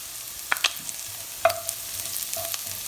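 Black bean soup stirred in a pot, a few light spoon clinks and scrapes against the side over a quiet low simmer, close and fairly soft, without talking.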